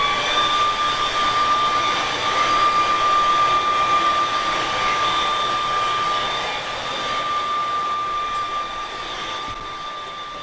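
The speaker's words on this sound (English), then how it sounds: "So I will use the normal hair dry, sponsored by Marco Micoletto, and make sure my canvas is dry" A hair dryer blows over a painting canvas, a loud continuous whooshing roar with a thin steady whine, holding for about ten seconds with a slight dip partway through.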